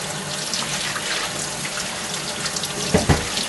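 Tap water runs steadily while a rusty cast iron sink is rinsed off after rust removal, a continuous close splashing flow with a couple of brief knocks near the end.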